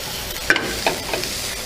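Garlic frying in a pan for Hawaii-style fried rice with green onion, stirred with a few soft scrapes and light sizzling, fairly quiet and close, with no talking.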